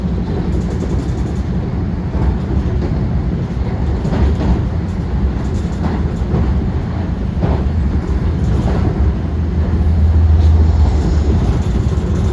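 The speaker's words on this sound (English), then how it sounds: "Here we're passing up the Poughkeepsie train." Constant low rumble of rail travel with rhythmic clacking thumps, heard from inside a moving train in New York, and a brief swell of deeper roar near the end as it passes a Poughkeepsie train.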